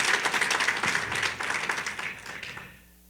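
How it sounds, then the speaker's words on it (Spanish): Congregation at a church service applauding, a lively dense burst of many hands clapping with audible individual claps, cutting off abruptly near the end into near silence. "quiero que usted le dé un aplauso al Señor"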